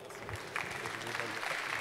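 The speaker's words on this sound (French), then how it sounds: "je crois qu'on peut les applaudir" An audience at a foundation awards evening applauds in a brief, steady patter of clapping from a mid-sized crowd, with a voice faintly audible underneath.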